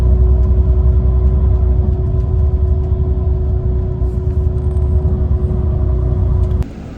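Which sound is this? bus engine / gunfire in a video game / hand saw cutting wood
bus engine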